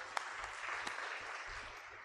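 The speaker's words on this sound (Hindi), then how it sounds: "ताली बजाइए सब लोग।" A congregation claps at a church service, a fairly faint, even patter of many hands with a few sharper individual claps standing out near the start.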